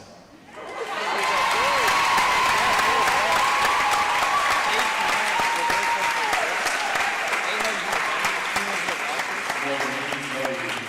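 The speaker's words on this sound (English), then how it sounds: "Now applause." A crowd in a gym before a high school volleyball match breaks into sustained loud applause for a Hall of Fame coach, the clapping rising quickly and holding steady with a few cheers and voices mixed in.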